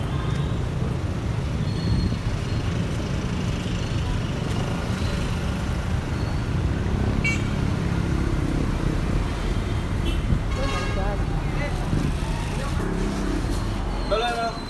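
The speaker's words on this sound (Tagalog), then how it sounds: "grabe ang traffic guys, grabe ang traffic" Heavy downtown road traffic of cars, trucks and buses gives a dense, continuous low rumble of engines, with occasional higher hisses and squeals rising above the steady roar.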